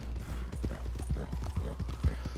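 Rapid horse hooves clip-clopping steadily in Red Dead Redemption 2, a close, rhythmic run of hoof beats with no talk over it.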